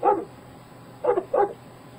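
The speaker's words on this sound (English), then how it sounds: "Even had a dog barking." A recorded dog bark played by Google Assistant comes as one bark, then a short pause and two more quick barks, clear and close with nothing else over them.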